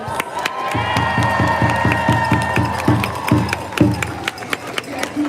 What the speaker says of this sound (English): here's a round of applause